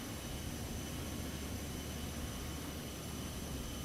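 Twin jet engines of a Citation X business jet in MSFS 2024 hold a steady, even roar with a faint high whine, adjusting under autothrottle at cruise with no voices present.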